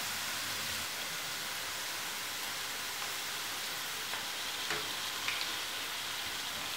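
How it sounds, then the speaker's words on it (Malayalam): Onion, crushed ginger, garlic and green chilli sautéing in a pan for a Kerala masala chicken curry, giving a steady, close, continuous sizzle with faint stirring scrapes and no voices. "ഇതെല്ലാം കൂടെ നന്നായിട്ട് ഒന്നുകൂടെ ഒന്ന് വഴറ്റിയെടുക്കാം"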